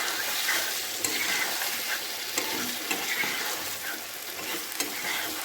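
Pointed gourd and prawn curry sizzles and bubbles steadily in a pan as water goes in, with occasional stirring clinks, a close, continuous frying hiss and no talking.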